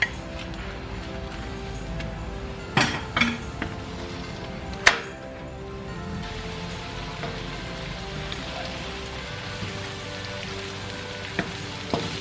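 Chopped onions fry in olive oil in a pan, making a steady soft crackling sizzle with a few louder clatters from stirring.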